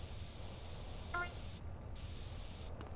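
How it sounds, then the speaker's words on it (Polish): A spray can hisses in GTA San Andreas as a steady, fairly loud stream of spraying that breaks off briefly and then resumes, with no talk over it. "Daj mi spraya."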